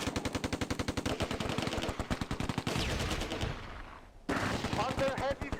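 Rapid bursts of machine-gun and rifle fire crackle in the Close Combat A Bridge Too Far war game, dense rhythmic shots that pause briefly then resume, with a voice speaking.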